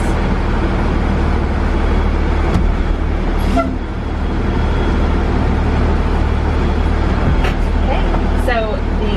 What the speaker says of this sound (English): I'm going to roll forward and just tap on the brakes.